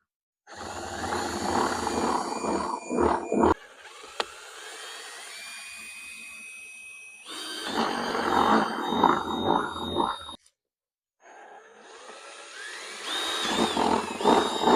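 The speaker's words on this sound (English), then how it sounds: "we're drilling into a rounded surface, which is one of the more difficult surfaces to drill into." A power drill whines in bursts, revving high and grinding as it bites into the rounded side of a plastic bucket, with pauses between runs.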